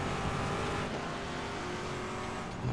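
A Saleen S7R race car accelerating hard around the Sepang circuit in the racing game RaceRoom, its engine a loud, steady, continuous roar that holds up close for the whole moment with no voices.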